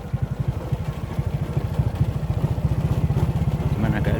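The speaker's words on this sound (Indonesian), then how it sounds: "naik motor ya menuju rumah" Motorcycle ridden along a mossy, slippery road wet from light drizzle near a pine forest, its engine putting out a steady, rapid thumping pulse up close that gradually builds in loudness.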